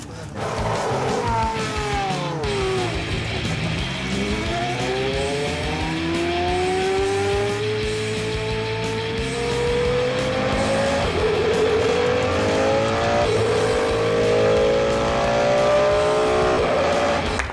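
A car on a timed lap of a race circuit screams as its engine climbs through the revs along the straight, with repeated rising whines between gear changes and tyre noise, loud and close throughout.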